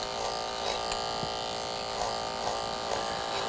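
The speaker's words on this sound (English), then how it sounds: "So we remove the bulk and we work our way up with clipper over comb." Electric hair clipper cutting hair with the clipper-over-comb technique, a steady faint buzzing hum broken by regular short bursts as the blades pass through the hair.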